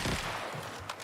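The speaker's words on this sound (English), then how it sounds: "something's shooting at me" Gunfire from another player in an online shooter video game comes as a short, dense burst of rapid shots, fairly loud and rough over the game's background sound.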